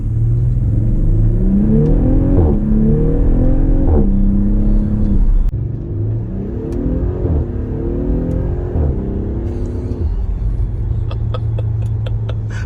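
A loud Audi SQ5 engine accelerates through several gear shifts, rising pitch repeatedly climbing then dropping, followed by a steady cruising rumble with faint clicks.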